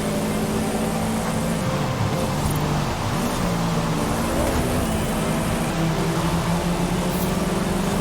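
A rally car engine in Forza Horizon 5 drones loud and continuous, its pitch rising and falling through gear changes as it races, with steady road roar beneath and no talk.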